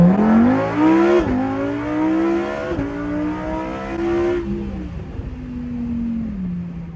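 A Lamborghini Huracan Performante Spyder accelerates hard close by, its engine climbing in pitch through several quick upshifts before easing into a steadier drone.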